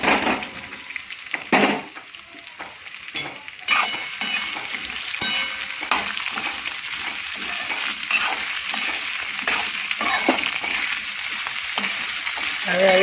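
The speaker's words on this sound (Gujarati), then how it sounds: "હવે આવી રીતે બટાકા મસ્ત શેકાઈ જાય" Potatoes with green chilies frying in a pan for Gujarati dry bhaji, a continuous close sizzle with repeated stirring scrapes and occasional light clinks throughout.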